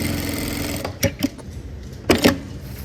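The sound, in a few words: electronic straight-stitch sewing machine stitching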